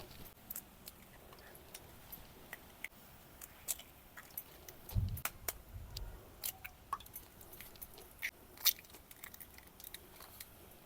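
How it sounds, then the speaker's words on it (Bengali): Eggs cracked one by one into a bowl in a village kitchen while making egg manchurian, heard as sharp, close taps and clicks scattered across the clip, with a brief low thump midway. "ডিমগুলোকে আমি এক এক করে ফাটিয়ে নিচ্ছি বোলের মধ্যে"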